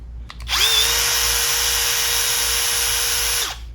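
An impact driver powered by a DeWalt 20V battery through an old Hercules adapter spins up to a steady, loud, whining run for about three seconds, then winds down. It is close by and heard alone.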